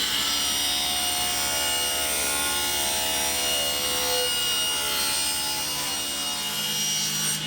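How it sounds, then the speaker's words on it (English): A table saw rips a wooden board lengthwise, a loud continuous whine and cutting roar sustained close up throughout with no talk. "I can rip a parallel on the table saw at 9 inches."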